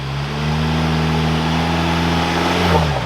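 A Ford Bronco with a four-cylinder engine revs hard while crawling off-road over rock, a loud, steady mid-pitched drone that climbs slightly toward the end, with no talk over it.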